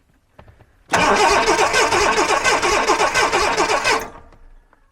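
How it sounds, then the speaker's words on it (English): A classic car engine cranks over with the ignition disconnected and spark plugs removed, giving a loud, rapid, even starter churn for about three seconds that then stops abruptly, with no catch or firing. "let's disconnect the ignition, crank it over, see if anything comes out of that plug hole"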